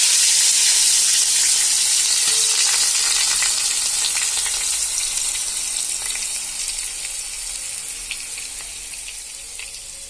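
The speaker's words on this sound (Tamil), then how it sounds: "கடுகு பொரிஞ்சிருச்சு. கருவேப்பிலை போட்டுக்கலாம்." Mustard seeds and curry leaves sizzle loudly in hot oil for a Kerala-style aviyal tempering, a bright, dense crackle close by that fades slightly toward the end, with no voices.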